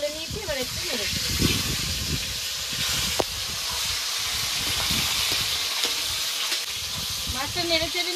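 Rita fish curry with potatoes in a thin gravy bubbles and hisses steadily in a pan, a continuous close boiling sizzle that runs throughout, with brief bits of a voice near the start and end.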